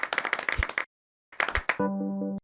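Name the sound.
animated stick figures clapping in Animator vs Animation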